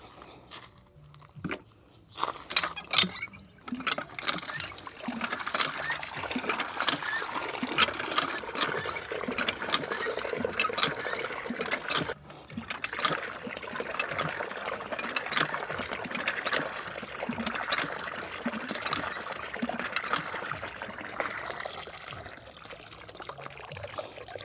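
Water is poured from a bucket to wash away dust, giving a sustained, fairly close splashing and trickling that runs for about twenty seconds with a few brief dips.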